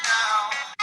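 A phone ringtone chimes loudly and close, a bright electronic melody that runs almost a second with a short break before it resumes, with no talking over it.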